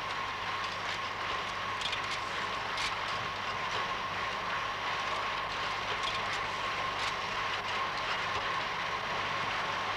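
Train rolling along rails, a steady continuous rumble with faint rhythmic clatter and hiss, moderately loud and unbroken throughout, with no voices.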